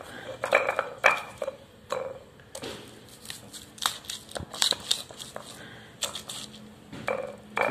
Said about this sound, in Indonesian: Setelah hancur, kita hancurkan terlebih dahulu seperti ini bawang putihnya.